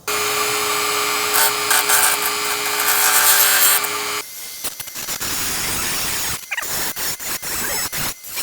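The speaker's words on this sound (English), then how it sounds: "And you guys thought I was gonna use a grinder, huh? Heck no, I'm using a Dremel." A Dremel rotary tool cuts into a bolt on a semi truck seat, giving a loud high whine for about four seconds, followed by a rough grinding and rubbing stretch with short bursts.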